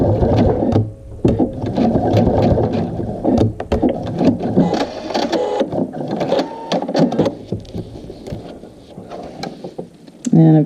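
A sewing machine stitches an adjustable strap in bursts of mechanical whirring and clatter, starting and stopping, with a louder rattle near the end.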